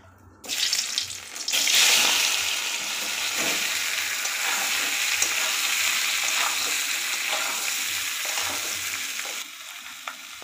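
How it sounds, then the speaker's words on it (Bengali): Potatoes frying in mustard oil in a kadai sizzle loudly and steadily, with scraping stirs of the spoon cutting through the hiss, close by and without talk. "কড়াইয়ে কষিয়ে নেব।"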